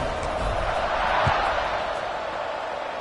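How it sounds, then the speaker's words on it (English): A stadium crowd in the NCAA 26 football video game keeps up a steady, broad roar that swells slightly midway after a touchdown score. "this crowd is buzzing after that last score"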